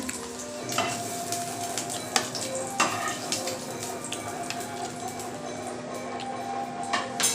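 Steady frying sizzle from browned eggs in an oiled pan with intermittent clinks and scrapes of a utensil and dish as they are lifted out, close and moderately loud.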